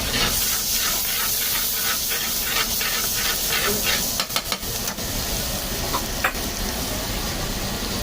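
Garlic and green chili sizzling in butter at an Indian street food stall: a loud, continuous frying hiss with steam, overlaid by rhythmic scraping of a utensil and a few sharp metallic clinks, with a voice speaking over it.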